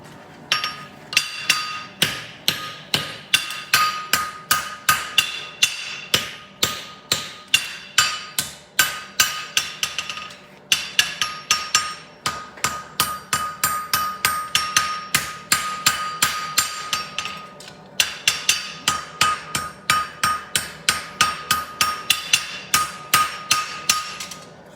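A hammer forges the heel of a lateral extension horseshoe on an anvil, with steady rhythmic ringing blows in rapid runs broken by short pauses.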